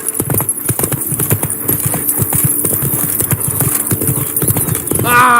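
Roach, a horse in The Witcher 3: Wild Hunt, gallops with a fast, loud, rhythmic clip-clop of hooves close by, and a brief voice or creature call rises at the very end.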